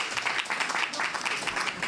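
Members of a French parliamentary committee applaud after a vote, a steady, close patter of many hands clapping together without a break.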